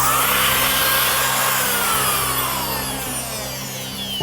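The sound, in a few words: rotary cutting tool cutting drywall on ceiling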